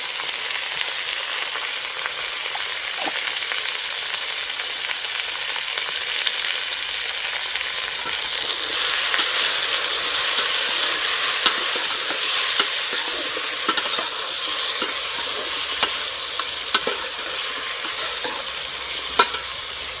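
Potatoes and vegetables with salt and turmeric frying in a pan in an outdoor kitchen, a continuous loud sizzle with scattered stirring clicks and scrapes throughout.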